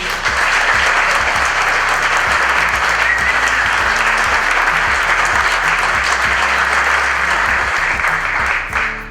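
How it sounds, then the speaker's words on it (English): Audience applause at the opening ceremony of a renovated mill in Lawrence, a dense, sustained round of clapping from a sizable crowd that stays loud and even throughout. "a round of applause to them for their commitment and their belief in this project"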